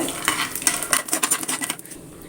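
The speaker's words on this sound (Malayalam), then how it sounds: "ആദ്യം നമ്മൾ ഒരു മൂന്ന് ടേബിൾ സ്പൂണ് കപ്പലണ്ടി ഇട്ട് കൊടുക്കുന്നുണ്ട്" Peanuts tipped into hot oil in a pan crackle and skitter, a close run of quick clicks and sizzling pops that thins out toward the end, with no voices.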